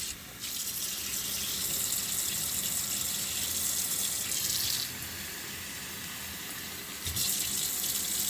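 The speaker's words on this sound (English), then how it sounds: "I'm going to go ahead and turn on my water." Water running from a sink tap into an indoor plant pot, a loud steady hiss close by that cuts off near the middle and then starts again near the end, with no talking.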